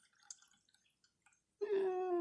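Cold water kept chilled with ice is poured into a cup, entering after a quiet stretch of faint drips and taps as a steady, close pour that rises gently in pitch as the cup fills.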